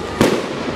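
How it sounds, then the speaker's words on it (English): Fireworks burst out of a small tube at a wrestling show, with one sharp, loud pop followed by a fizzing, crackling tail. "look at the fireworks coming out of that little tube."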